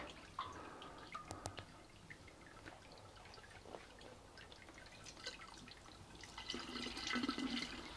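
Water is poured into the malt pipe of a Brewzilla mash. A soft, faint splashing and trickling with scattered drips comes from close by and swells into a fuller pour toward the end, with no one speaking.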